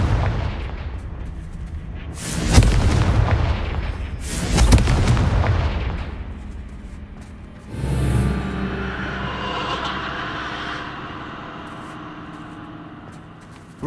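Repeated Confringo fire spell blasts in the Hogwarts Legacy game: two loud booming bursts close together, then a softer explosive hit that fades into a lingering rumble, with no talk.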